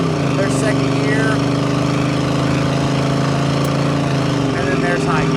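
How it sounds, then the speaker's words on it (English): A 1972 Chevrolet El Camino SS with its numbers-matching 350 V8 and automatic transmission drones steadily and loudly from inside the cab as it pulls through the gears, the engine note holding a continuous low hum. "We'll shift it up to the gears. Wind it up a little bit more. There's second gear."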